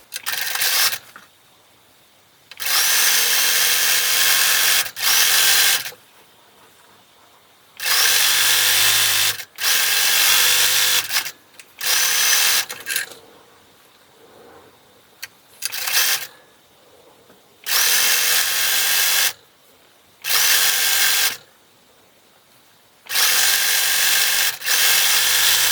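A sewing machine runs in repeated bursts while stitching stretch-fabric baby leggings, each run a loud steady whir of a few seconds separated by short quiet pauses.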